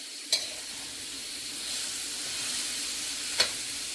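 Pork and crab meat sizzle softly in a pan, a steady faint frying hiss broken by two sharp utensil clicks against the pan.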